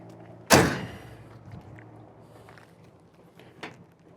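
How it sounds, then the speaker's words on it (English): The hood of a 1966 Ford Mustang convertible shuts with a single sharp metallic slam, followed by faint rattles and a small clunk in a quiet setting. "Hood closes with ease and lines up really well"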